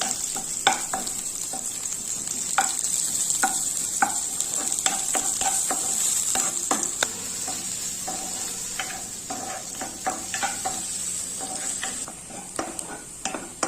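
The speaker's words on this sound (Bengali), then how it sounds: "পেঁয়াজটা লাল লাল করে ভেজে নেব।" Onions sizzle and fry in hot oil, with a constant hiss broken by repeated clinks and scrapes of a spoon stirring the pan.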